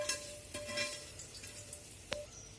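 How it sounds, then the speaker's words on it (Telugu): Fried tempering being stirred into cooked rice for daddojanam, soft faint scraping and mixing with a light sizzle, a couple of brief utensil clinks, no talking. "పోపు అంతా బాగా వేగిన తర్వాత మనం ముందుగా కలిపి పెట్టుకున్న అన్నంలోకి ఈ పోపు వేసి కలపాలి"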